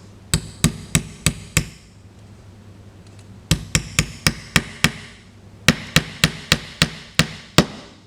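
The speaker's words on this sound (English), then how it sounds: "and hammer it" Repeated sharp metallic hammer strikes on a washer bolt, in three bursts of about five or six evenly spaced blows each, close and loud with short pauses between.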